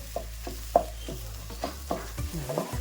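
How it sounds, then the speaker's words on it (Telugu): A spoon stirs goat head curry with pieces of fat in a pot, several distinct scraping strokes at an irregular rhythm over a soft sizzle, close and fairly quiet with no talking. "కొంచెం బాగా కలుపుకోవాలి."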